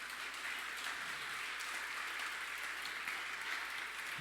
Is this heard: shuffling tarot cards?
no